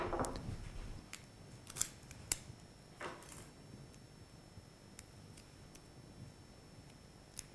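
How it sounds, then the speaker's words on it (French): Scissors snip through aluminium foil tape on a network cable, giving a few sharp close clicks and cuts over a quiet background hiss. "Retirez le ruban aluminium en le coupant au ras de la gaine."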